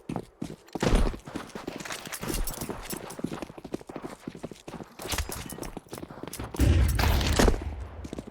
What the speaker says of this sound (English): with just Cooper rattling off shots